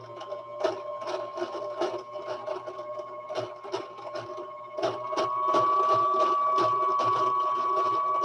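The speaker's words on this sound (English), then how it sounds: "And I'm going to continue threading my bobbin." A sewing machine winds thread onto its bobbin with a steady mechanical whir and rapid ticking, rising to a smoother, louder hum partway through as the motor speeds up; no talking.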